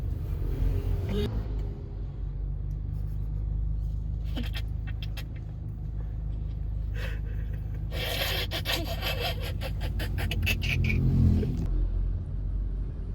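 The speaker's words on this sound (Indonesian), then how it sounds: "kita lagi kena macet di Madiun" Steady low car engine rumble from vehicles stuck in a traffic jam in Madiun, continuous and close, with intermittent scraping and rustling bursts over the droning hum.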